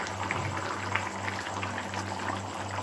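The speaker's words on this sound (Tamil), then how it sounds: "நல்லா எப்படி நல்லா கொதித்து வந்திருக்கு பாருங்கள்" Mushroom gravy bubbling at a steady boil in a covered pot, a soft continuous simmer with gentle popping, fairly quiet and alone.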